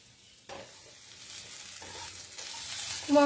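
Spices for mixed veg paneer fry in a pan, a soft sizzle punctuated by stirring scrapes that grows louder toward the end, with no talking.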